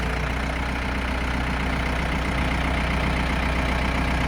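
A big tractor's diesel engine runs at a steady low rumble while lifting concrete pylons one at a time, close and constant with no voices.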